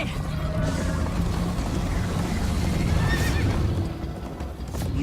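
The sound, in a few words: horse galloping and neighing in video game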